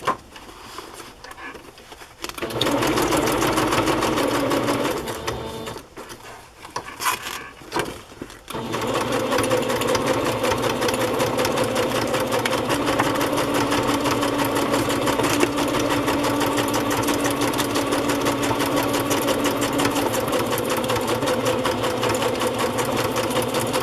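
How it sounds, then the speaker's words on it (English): A sewing machine stitches down a fabric journal cover in a vintage needlework style. It starts with short bursts, then runs in a fast, steady, close whirring rattle for a long stretch. "I will put this in place and sew it down"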